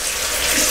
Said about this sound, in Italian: Risciacquiamo con acqua tiepida